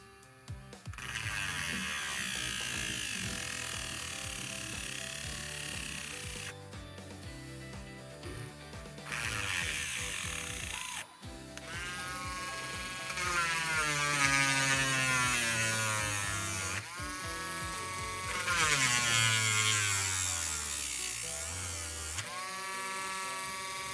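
An electric drill with a dull bit drives a screw on a model ship's mizzen mast, whirring close by in several long bursts, its motor pitch climbing and dropping as it strains under load.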